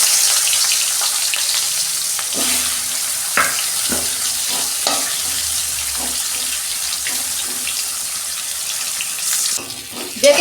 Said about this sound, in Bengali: তেল গরম হয়ে গেছে, কাঁকরেলটা ভেজে নিচ্ছি।